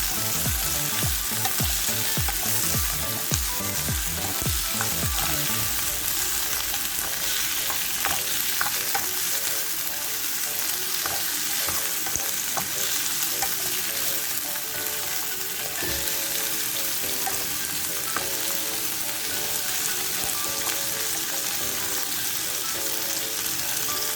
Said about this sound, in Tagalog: Stir-fry lang natin siya guys.